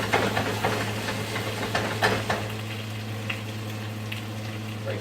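Potatoes and onions fry in a cast iron pan, a continuous crackling sizzle with occasional louder pops and scrapes, over a low steady hum nearby, no speech.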